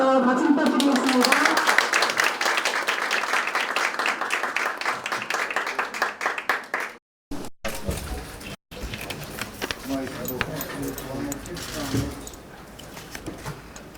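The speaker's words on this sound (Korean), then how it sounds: "박수 부탁드리겠습니다" Audience at a community meeting in a school in Incheon claps to welcome a party leader, a steady patter of moderate applause that breaks off and gives way to murmuring and talk.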